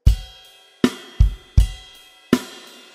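First bar of a chorus groove on a drum kit: five punchy hits mixing deep kick thumps and cracking snare with ringing cymbal wash, close and loud, no talking.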